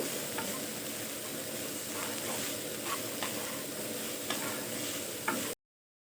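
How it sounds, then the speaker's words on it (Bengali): Poha pulao with a little sugar and fried peanuts is stirred in a hot pan, giving a continuous soft sizzle broken by light scraping strokes of the spoon, close and steady until it stops abruptly. "এবার সব দিয়ে 2 মিনিট মতো নেড়ে নেবো।"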